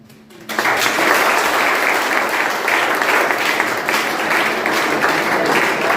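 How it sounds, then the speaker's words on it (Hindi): A crowd at an orientation program bursts into loud, sustained applause for children after a quiet moment, the clapping dense and steady until the end. "बच्चों को जोरदार तालियां बजाइए आप लोग।"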